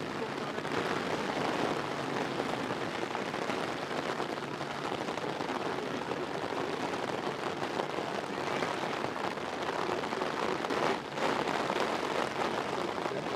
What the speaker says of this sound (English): the rain is so loud here that I can't actually hear the official